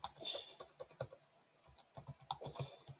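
Quick, light keystrokes patter on a computer keyboard in an irregular rhythm, close and fairly quiet, with short pauses between bursts of clicks.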